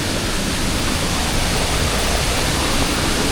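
A creek swollen by a night of steady rain rushes past in a dense, continuous roar of water, loud and even from start to finish with no voices.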